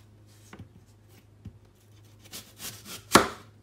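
A knife slices apples on a cutting board, giving a few soft scattered cuts and then a sharper, louder chop toward the end, alone and close.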